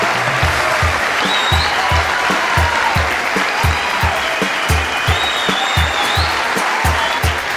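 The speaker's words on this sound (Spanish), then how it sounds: "Fuerte, fuerte el aplauso para la despedida." An audience applauds loudly at the end of a Grupo Encuentro concert, a dense, sustained roar of clapping with a rhythmic low beat pulsing underneath and faint whistles rising above the crowd.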